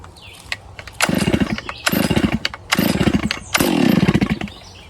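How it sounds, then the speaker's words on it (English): Four rough pull-cord bursts of a Stihl MS 661 chainsaw trying to start cold on full choke, each a short sputtering roar, loud and close. "we're going to see how many pulls it takes to start this chainsaw at a cold start"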